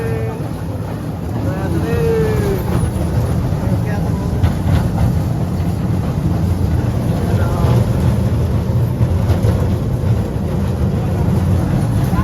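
A train engine moves at the Chennai rail museum with a loud, steady rumble and clatter, heard from on board alongside heavy wind buffeting the microphone.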